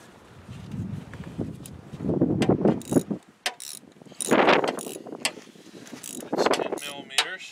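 A ratchet with a wobbly universal socket loosens a 10mm bolt on a radiator bracket of a Kubota KX91-3SS excavator. Several short bursts of close metallic clicking come and go, with someone talking throughout.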